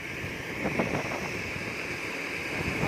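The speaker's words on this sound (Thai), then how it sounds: "ลมแรงครับลมแรง ดูครับโอ้เสียงลมครับ" Strong wind blows across a rice field during harvest with a combine harvester, a steady, loud roar of rushing air buffeting the microphone with no talking.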